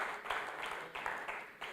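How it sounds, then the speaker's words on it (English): Applause from a summit audience at a fintech event, a steady, dense wash of many hands clapping together, moderately distant and fairly quiet, with no one speaking over it. "A round of applause for him"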